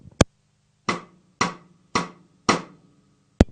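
Snare drum played cross stick: a sharp hit, then four evenly paced woody clicks with brief ringing decay, close and dry, and a final crisp strike at the end.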